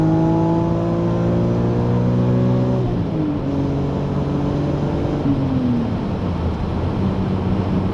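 A BMW E46 M3 engine drones loud and close with a steady tonal hum, its pitch dipping and shifting partway through before settling again, with no voices over it.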